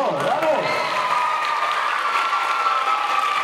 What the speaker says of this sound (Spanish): Otro aplauso para ella, ¿qué pasó?